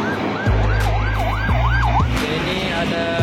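A wailing ambulance siren sweeps up and down over the loud, close rumble of a vehicle engine at a toll gate in Aceh, with a few low thumps.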